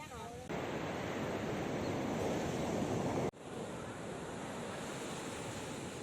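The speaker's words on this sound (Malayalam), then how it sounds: "ഇവിടെ ഇപ്പോൾ കടലിലോട്ടൊരു വെള്ളം ഇറങ്ങുന്നുണ്ട്" Sea waves wash steadily onto the shore at Cherai Beach, a close, broad and continuous roar of surf with wind buffeting the microphone and a brief dropout partway through.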